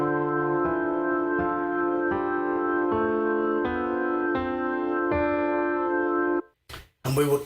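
A sustained keyboard tone steps through a D Dorian scale of about eight notes, each held roughly a second, with a brief pause and fragment at the end.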